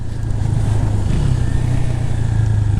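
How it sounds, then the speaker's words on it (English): Husqvarna Svartpilen 401 single-cylinder motorcycle on the move, a steady low engine drone with wind rush, heard continuously and fairly loud from the rider's position. "I'm surprised how smooth this single cylinder is as well."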